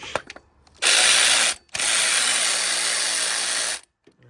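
A ratchet wrench loosening a 10 mm bolt on a 1998–2002 Honda Accord during a timing belt job, two rapid, loud, close clicking runs, the first brief, the second about two seconds long, separated by a short pause.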